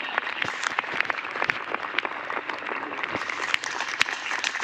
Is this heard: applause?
yes